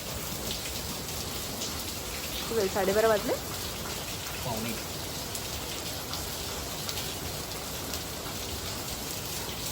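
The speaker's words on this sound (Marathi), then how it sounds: "बापरे वाढला पाऊस ना आता" Heavy monsoon rain in Mumbai at night, heard from indoors near a gallery: a dense, steady wash of rainfall throughout, with people talking briefly over it early on.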